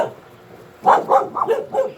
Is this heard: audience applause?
no